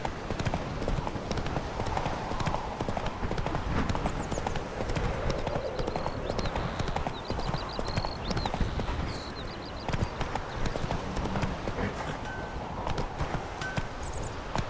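Geralt's horse Roach in The Witcher 3 galloping, fast continuous clip-clop of hooves close by, with faint game voices and music in the background.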